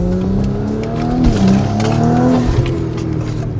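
A tuned, turbocharged Audi B9 S5 Sportback with TTE810 turbo and Quattro all-wheel drive roars loudly and steadily, rising in pitch as it launches hard, with a brief tire chirp and no talking.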